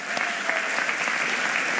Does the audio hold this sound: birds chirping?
no